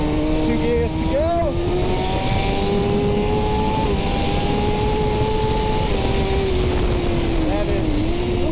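A 2019 Kawasaki ZX6R motorcycle with a Cordona PQ8 quick shifter accelerates hard, the loud engine whine climbing in pitch, dropping briefly with each quick gear change, then rising again, with a voice speaking over the engine.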